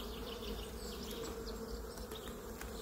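Dense, steady buzzing of honey bees at an open hive during a swarm check, the colony's hum continuous and close throughout with no talk.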